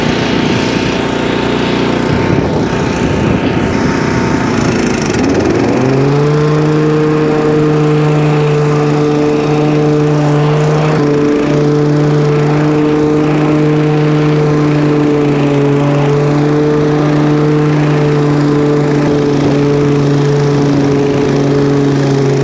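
A SCAG 30-inch push lawn mower runs loud and close, a steady engine drone that starts rough, then settles into an even, sustained hum for the rest of the clip with no voices.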